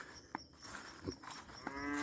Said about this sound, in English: The cows have not received their daily ration of the daily scoop, the evening scoop of